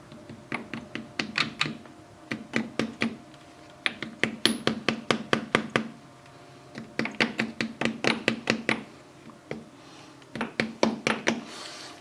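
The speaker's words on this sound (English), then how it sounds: "little itty bitty rubber mallet that I'll use to tap around the outside" A small rubber mallet taps around a rear PTO seal on a John Deere 455 tractor, giving quick runs of light, hollow knocks in bursts with short pauses between them.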